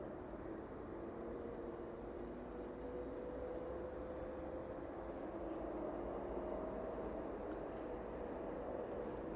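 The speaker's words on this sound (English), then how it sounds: "the Ryanair service from Wrocław, making its way down over the M1, just about making its way over the threshold for runway 27" Ryanair jet from Wrocław on final approach over the M1 to runway 27 at East Midlands Airport, a faint, distant, steady roar under broadband background noise.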